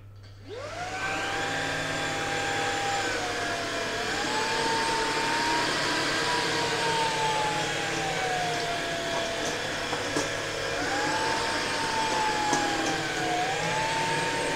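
A Tineco PureOne A50S Plus cordless vacuum cleaner whirs into life and runs steadily and close, its motor pitch rising and dipping at intervals as it works, with no talking over it.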